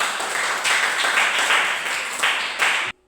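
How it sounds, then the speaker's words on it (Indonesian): A group claps hands during a Bible study lesson, a dense flutter of claps with louder surges that holds for about three seconds, then stops abruptly. "Oke, tepuk tangan dulu untuk"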